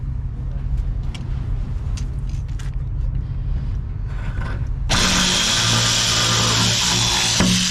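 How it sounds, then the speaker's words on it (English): Plywood being cut with a power tool during cabin room building, a loud continuous high whine kicking in partway through after a stretch of lower rumbling and a voice speaking. "I need to cut a little bit more."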